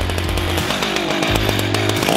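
A chainsaw engine revs loudly in two long bursts, dropping briefly between them, with a steady harsh buzzing throughout.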